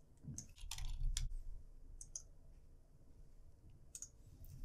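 Computer mouse and keyboard clicks while creating a new HTML file in a code editor: a scattered series of faint, sharp, close clicks, bunched early and near the end, over a low room rumble.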